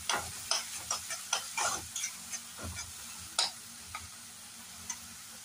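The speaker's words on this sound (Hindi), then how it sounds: "तो हमारी प्याज यहाँ पर भून चुकी है।" Finely chopped onion sizzling in a hot pan with cinnamon and bay leaf, stirred with a utensil that makes repeated sharp scrapes and clicks over a steady frying crackle; close and moderately loud, with no talking.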